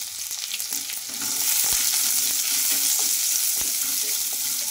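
Long-sliced onions, green chilli pieces and curry leaves fry in hot oil with a loud, bright sizzle that swells after a second, broken by a few spoon scrapes and taps against the pan.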